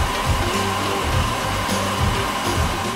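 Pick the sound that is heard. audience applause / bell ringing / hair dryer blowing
hair dryer blowing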